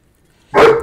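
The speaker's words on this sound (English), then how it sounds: "he came with me to New York, so now he's barking at the neighbors." A dog gives one loud, close bark at the neighbors inside a New York home, a short burst rising out of near silence at the very end.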